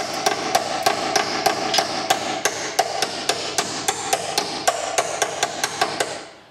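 Hammer tapping a car suspension bushing bolt into place on a wishbone: a steady series of about twenty sharp metallic taps at a quick, even rhythm, close and clear, with no talking.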